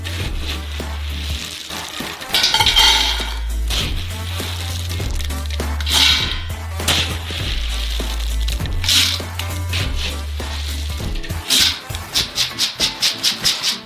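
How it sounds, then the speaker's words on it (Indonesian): Raw peanuts pour and slide into a large wok for frying a 50 kg batch, a steady dry rustling and clatter with periodic scraping bursts and a quick series of rhythmic scoops near the end. "Dan kita mengisi kuali dengan kacang mentah berikutnya."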